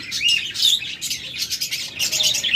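Budgerigars chirp and twitter in quick, bright, overlapping bursts close by, continuous for the whole stretch with no talk.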